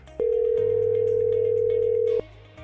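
A telephone call's ringback tone: one long steady electronic tone holding for about two seconds, clear and alone, as the line connects and rings unanswered.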